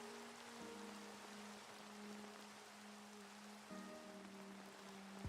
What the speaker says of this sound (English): I like the rain noises